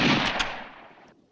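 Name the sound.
gunfire in a western movie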